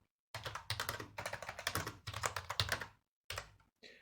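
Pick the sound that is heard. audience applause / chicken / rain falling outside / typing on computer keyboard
typing on computer keyboard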